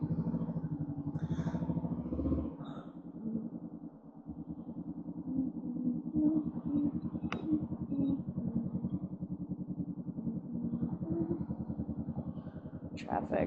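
A motorcycle rides through traffic heading into Manhattan, its engine giving a steady, close, throbbing rumble with slight rises and dips in pitch, while someone talks and sings over it.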